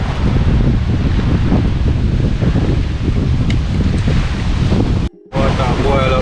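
Strong wind by the sea in Jamaica, rough surf and gusts buffeting the microphone in a loud continuous roar that drops out briefly near the end.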